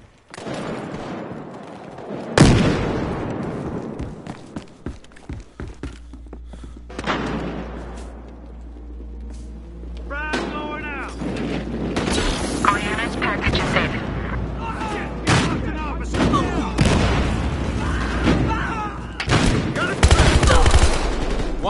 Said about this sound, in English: Throwing grenades!